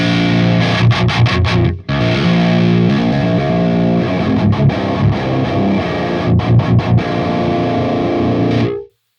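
A metal electric guitar distorted through the Audio Assault Hellbeast amp plugin, treble control adjusted, plays loud saturated palm-muted riffs with a short break near the start, ending abruptly, alone.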